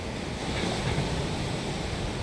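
Steady roar of ocean surf below a cliffside path in Bali, broad and continuous with wind buffeting the microphone throughout.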